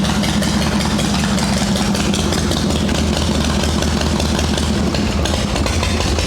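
A cone Shovelhead chopper engine idles cold with the choke still on, loud and close, a continuous rough rumbling patter with no pauses.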